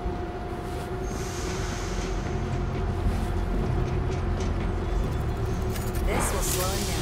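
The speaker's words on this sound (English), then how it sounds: "Get the train going." Train in the zombie shooter World War Z starting to roll, a continuous low rumble with metallic rail clatter and a brief wheel squeal near the end, under game noise and talk.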